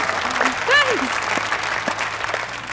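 Studio audience at a TV show clapping loudly and continuously, a dense steady wash of applause with an overlapping voice and a brief whistle-like tone.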